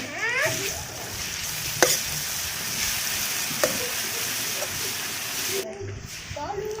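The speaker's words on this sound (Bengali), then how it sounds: "এবার আমি রসুন বাটা দিয়ে দেবো।" Steady sizzling of garlic paste frying in a pan with browned onions, with a couple of sharp clinks of a utensil and a voice speaking over it.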